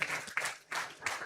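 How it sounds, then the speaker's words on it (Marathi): An audience at a Ganesh festival mandal event at Shivaji Park applauds and cheers in a brief burst of rhythmic surges, loud and close. "जरा जोरदार टाळ्या या मंडळासाठी सुद्धा."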